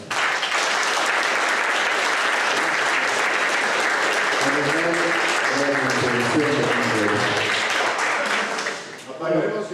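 A conference audience applauds for engineers, sustained dense clapping that continues strongly, with a voice speaking over it toward the end.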